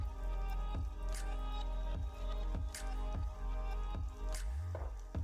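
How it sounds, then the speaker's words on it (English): Sloshing and squishing of water in a handheld water bottle being shaken, a few soft wet pulses in an otherwise steady, close background hum. "I'm shaking up my water bottle."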